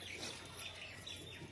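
Tumbler pigeons kept in a loft give soft, continuous chirps and coos, close by and steady throughout, with faint bird calls layered over a low background hum.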